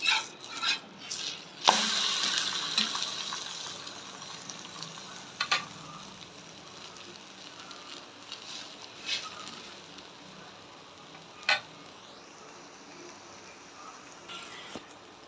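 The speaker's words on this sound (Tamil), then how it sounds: "ஒரு பக்கம் முட்டை வெந்துருச்சு இப்போ நம்ம திருப்பி போட்டுக்கலாம்" An egg fries in a pan, a quiet steady sizzle with a few sharp scrapes and taps of the turner as it is flipped, no talking.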